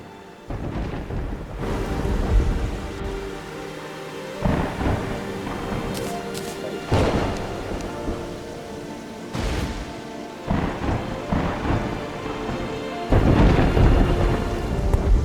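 Heavy rain pours steadily in a Terraria thunderstorm while deep thunder rumbles and cracks roll in repeatedly, several loud bursts spread across the stretch.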